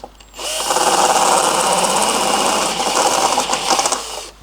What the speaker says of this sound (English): Got ourselves a stepper drill